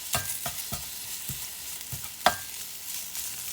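A hash brown patty frying with sausage in a pan, with a soft continuous sizzle under a series of sharp chopping knocks from a spatula breaking it apart.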